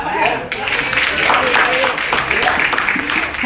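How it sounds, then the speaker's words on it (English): A church congregation claps and applauds in a brief burst, a dense patter of hands over a few seconds, with voices and talk mixed in. "Come on, clap for Adam."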